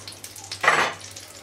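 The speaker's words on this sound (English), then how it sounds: "Give it a good stir. Make sure you get the butter all over that cauliflower." Cauliflower stirred with butter in a pan, a brief scraping swish and soft sizzle near the middle, quiet and close.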